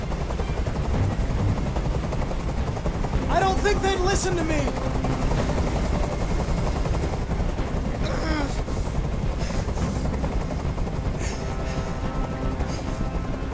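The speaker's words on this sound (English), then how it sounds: "I can't stand that noise anymore! Tell that helicopter to get out of here!" A helicopter in Detroit: Become Human drones steadily with a continuous rotor thrum, while a person shouts briefly over it and occasional sharp bursts cut through.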